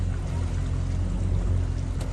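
A pontoon boat's outboard motor idles and throttles up slightly near a launch ramp, a steady close low rumble with a churning, watery wash throughout.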